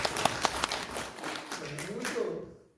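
A church congregation claps for members' birthdays at a Thanksgiving Sunday service, a loose scatter of claps at moderate distance that fades out toward the end.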